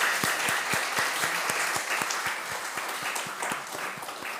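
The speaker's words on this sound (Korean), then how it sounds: "다시 한번 우리 아이들을 축복하면서 박수합시다." A church congregation claps for the children, with a quick, steady stream of hand claps from a small crowd that fades slightly toward the end.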